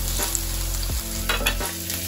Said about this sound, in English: I'm gonna add olive oil. 1, 2, 3, 4. And I'm gonna start sauteing the garlic.